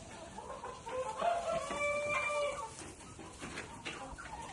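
A tall rooster of a Bobezy-type breed in a farm poultry house clucks in a short run of calls, close and moderately loud, with no talking.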